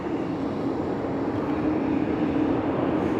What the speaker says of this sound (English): I am at an airport and there's jet engines running at full speed behind me